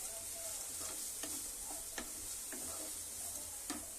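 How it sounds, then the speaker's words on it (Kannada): A spoon stirs a pot of ragi flour and vegetable soup with a soft bubbling sizzle underneath, spaced clinks and scrapes landing roughly every half second, close and quiet with no talking. "ಇವಿಟ್ಟು ಕಲ್ಸ್ಕೊತೀನಿ ರೀ."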